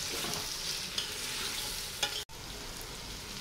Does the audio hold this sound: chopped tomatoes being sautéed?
yes